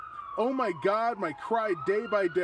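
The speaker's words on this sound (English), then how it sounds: "And you can hear that right now. We've got some sirens going past." Police sirens going past outside, wailing in loud repeated up-and-down sweeps while someone speaks over them.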